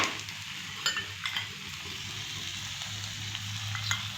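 Millet breakfast cake frying in a pan as oil is poured around its edges, giving a steady close sizzle with a few soft taps and scrapes, no voices.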